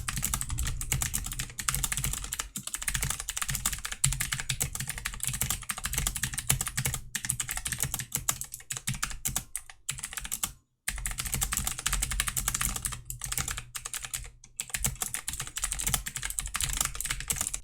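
Rapid, continuous typing on a Logitech G512 mechanical keyboard with clicky switches. Sharp clicks come close and loud in an unbroken stream, with only a brief pause near the end and no voices.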